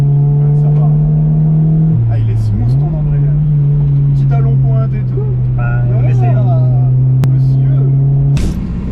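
A loud Honda Civic EJ9 engine drones at a steady pitch, dipping briefly before settling back, while people talk over it throughout.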